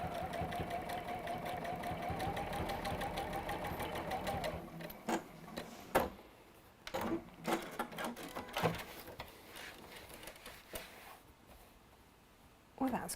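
A sewing machine runs a steady, rattling double line of reinforcing stitches for about four seconds, then stops, leaving scattered clicks and handling noises while people talk nearby.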